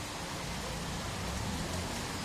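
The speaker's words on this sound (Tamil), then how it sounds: "இந்த மழை தூறல் சத்தம் காதில் விழுகிறது" Monsoon drizzle falls steadily, a dense, even hiss of rain on surfaces with no pauses or voices.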